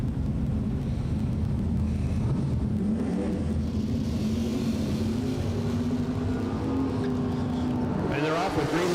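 Drag racing cars, a Corvette among them in the right lane, launch from green light starts at a bracket racing event, a continuous roar under announcer commentary that rises sharply at the very end.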